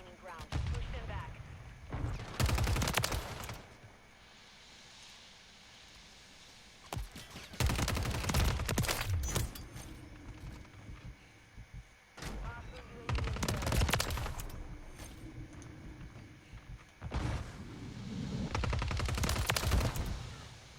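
Gunfire in a Call of Duty match: repeated bursts of automatic weapons and heavy fusillades come in waves, loud and close, separated by quieter stretches of battlefield ambience.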